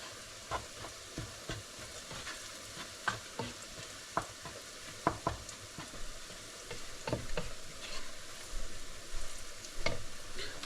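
A mixture frying in a pan with ginger on hand, steady soft sizzle under repeated clicks and scrapes of stirring, close and fairly quiet, no voices.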